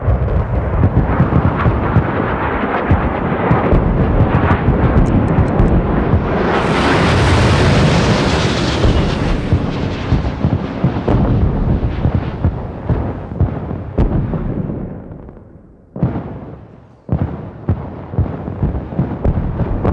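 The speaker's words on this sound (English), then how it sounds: "And with the sound of fireworks, our Greatworks project is completed." Fireworks in the SimCity video game mark completion of the Space Launch Center, a loud dense roar of crackling bursts and booms that swells to a bright hiss, then thins into separate pops near the end.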